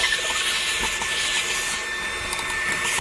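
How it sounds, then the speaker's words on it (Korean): A vacuum cleaner sucks leftover coffee grounds out of a disassembled Super Caimano coffee grinder during blade cleaning, a continuous hissing whir at moderate level throughout with no talking. "요 원두는 요 붓을 이용하시거나 아니면 청소기 이용하셔서 청소기로 흡입을 해주시면 됩니다"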